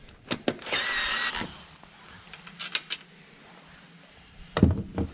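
Power tool backing 10mm screws out of a Jeep Gladiator JT headlight, with a short whirring burst, a few sharp knocks and clicks, then a final louder clatter, all close and fairly faint.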